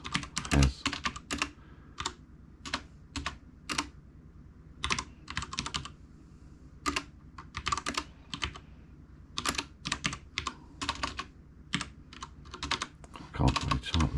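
Keys on a computer keyboard are tapped in short irregular bursts with pauses between, close and clear over a low room hum for the whole stretch.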